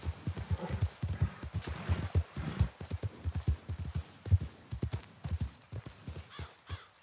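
Horse hooves clip-clop in a steady rhythm in the video game Red Dead Redemption 2, fairly close and distinct, with a brief whinny; no talking over it.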